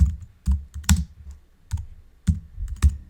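Keystrokes on a computer keyboard while entering text into a block in a Scratch coding project, irregular close taps in small bursts with short pauses between them, no talking.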